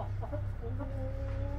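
A rooster gives a few short clucks and a drawn-out tonal call close by, set against a steady low hum, with no talking.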